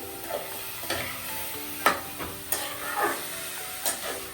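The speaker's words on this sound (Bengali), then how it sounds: "এবার আমি গাজরটা আস্তে আস্তে নাড়তে থাকবো ঘিয়ের মধ্যে দিয়ে।" Grated carrot frying in ghee is stirred slowly in a pan, with soft scraping strokes every second or so over a continuous gentle sizzle, close by and with no speech.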